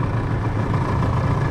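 A Tohatsu 25 outboard boat motor runs close by on the Una river with a steady, even low engine drone and no breaks.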